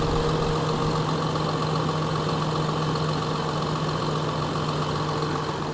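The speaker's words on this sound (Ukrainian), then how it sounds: "Моторчик, в принципі, шепче." A John Deere 7930 tractor engine idles steadily at close range, an even rumble with a faint hum and no speech.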